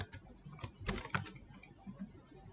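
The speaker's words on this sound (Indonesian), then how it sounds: "Ya, kita ketikkan saja CNN Indonesia." Keys tapped on a computer keyboard while entering a source name by hand, irregular clusters of quick clicks with short pauses, close and fairly quiet, no voices.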